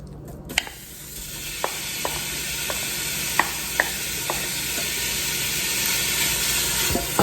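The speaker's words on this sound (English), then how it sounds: "You just want to cook the bacon until it's nice and crispy" Bacon frying in a pot for loaded potato soup, a continuous close sizzle and hiss punctuated by sharp metallic taps of a utensil against the pot every second or so.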